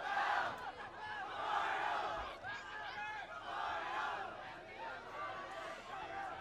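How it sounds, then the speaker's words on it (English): A high school boys football game between Memorial and Exeter, with a crowd in the stands chanting and shouting in a rising and falling group roar that carries from below, loud and sustained throughout. "I was mesmerized by the chant going on down in front of us"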